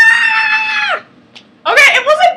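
A voice imitates a loud, screaming sneeze, one long shrill cry that breaks off, followed by a short burst of excited shouting.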